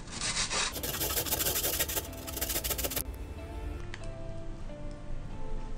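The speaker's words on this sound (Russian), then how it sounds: "натираем на мелкой терке чеснок" Large garlic cloves are rubbed against a small fine kitchen grater in quick, scratchy rasping strokes, loud and close, first rapid and dense, then slower and lighter, with no speech.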